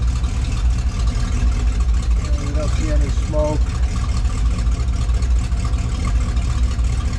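A 1957 Chevrolet Bel Air Sport Coupe idles with a steady, low exhaust rumble that runs constantly while someone talks briefly over it.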